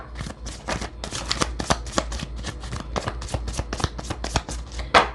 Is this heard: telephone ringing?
no